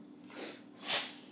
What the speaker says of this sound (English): You got a sneeze?